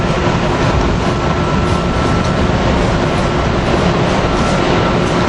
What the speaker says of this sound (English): we have Keystone 670 coming in also, as the Pennsylvanians departing north to New York